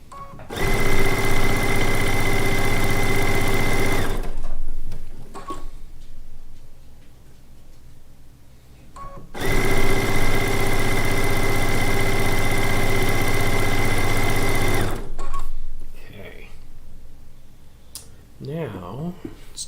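A sewing machine stitches strips onto quilt blocks for a Lacey Log Cabin quilt top, running in two long, steady, loud bursts of rapid mechanical whirring, with quieter pauses between them.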